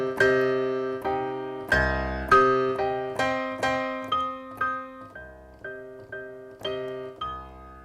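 One repeated key played through a chord plugin with random voicing, giving a series of about thirteen plucky synth chords in a steady rhythm, each shifting position on the keyboard, decaying quickly and heard alone without speech.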